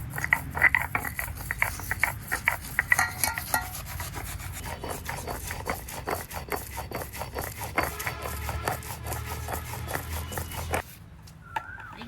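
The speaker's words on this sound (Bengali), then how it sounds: "এই যে আমাদের আম কুচানো হয়ে গেছে, কি মিহি হয়েছে" Mango being finely grated by hand, heard as steady rhythmic rasping strokes, close and fairly loud, continuing for about eleven seconds before stopping abruptly.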